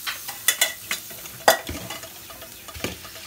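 Mashed potato and bread cutlet mixture is worked together with salt in a bowl, producing a handful of short, close squishing and scraping strokes in an uneven rhythm, with no one speaking.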